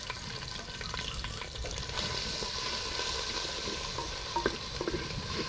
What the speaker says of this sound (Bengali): আদা রসুনটা ভালোভাবে ভাজা হয়ে গেছে